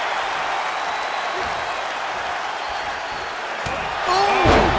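Video game crowd cheering at a WWE 2K23 SmackDown wrestling match, a steady broad roar of the arena audience that swells louder near the end, with a short slam-like impact just before.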